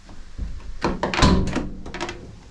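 Rear cargo doors of a Ram ProMaster 1500 van swinging open, giving a few close, solid thunks and latch clunks with rattling metal over about two seconds.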